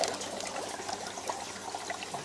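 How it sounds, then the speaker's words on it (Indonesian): An aquarium aerator bubbles steadily in salt water set up for hatching artemia eggs, a soft, continuous fizzing trickle heard close with no talking. "Nyalain aeratornya."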